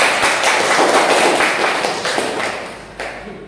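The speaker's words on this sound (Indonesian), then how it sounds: "Tepuk tangan." A classroom of students at an Indonesian Islamic junior secondary school applauding, giving a loud, dense burst of clapping that slowly fades over a few seconds.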